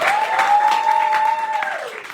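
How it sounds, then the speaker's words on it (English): A crowd at a live boardroom poetry slam event claps steadily after a performer's name is announced, with a sustained whistle-like tone running over the applause and easing off near the end. "A round of applause for Zenande."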